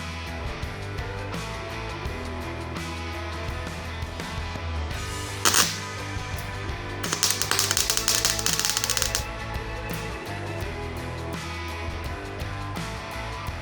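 An Eastwood MIG 175 welder at very low amperage sputters in irregular crackles and pops, with a brief sharp burst near the middle and a longer fizzing, crackling stretch after it, all close and fairly loud.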